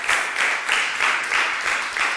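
Audience applause for a family at a Sunday church service, a steady wash of clapping with a faint rhythmic pulse, fairly loud and close, with no talking over it.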